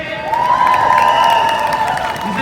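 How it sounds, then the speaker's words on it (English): A crowd at a pro-Palestinian street protest in Leeds bursts into loud applause and cheering for a speaker, with whoops and a sustained high shout riding over the clapping. "round of applause for Keir"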